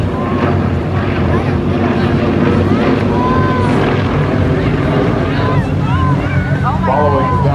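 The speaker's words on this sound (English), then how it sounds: "The airplane speed starts to build up." An aerobatic airplane dives and gathers speed at an air show, its engine a loud, continuous roar that drowns out the background and is joined by a voice commenting over a loudspeaker.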